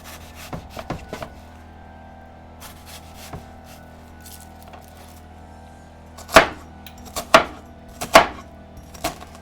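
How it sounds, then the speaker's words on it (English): A big vegetable knife, a mini cleaver, chops through potatoes on a cutting board, a series of light irregular taps followed by three louder, sharp thunks near the end, close and clear with a faint steady hum behind. "I'm using a big veggie knife, which is kind of a mini cleaver"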